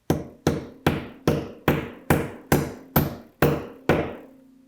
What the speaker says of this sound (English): put it where you want it, into your drywall. You might have plywood, whatever you have, and just hammer it in.